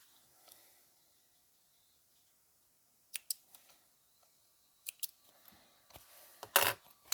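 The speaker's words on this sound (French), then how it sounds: "On coupe les petits fils." Small scissors snip loose threads on a sewn shoulder bag: a few quiet, close, crisp cuts in short clusters, separated by near-silence.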